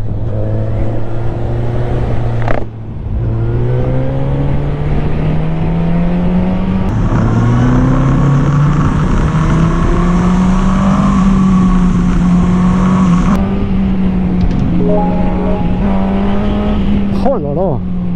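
A 2020 Suzuki GSX-S 1000 motorcycle engine pulling hard, a loud, close inline-four drone that climbs in pitch through the gears with short dips at shifts, wind rushing over it and a voice speaking intermittently.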